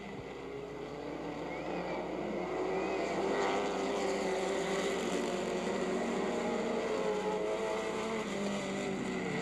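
Race cars roar around a track, a steady distant engine drone with a faint rising whine as cars pass, heard continuously and fairly quietly over the course of the race.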